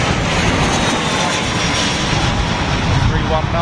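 An Airbus A319 with IAE engines arriving at London Heathrow on a windy day, giving a steady, loud broadband jet roar that fills the whole stretch without a break.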